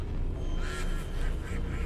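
A duck in a video game quacks in a run of nasal calls over steady background game noise, fairly close and repeated at a quick, uneven rhythm.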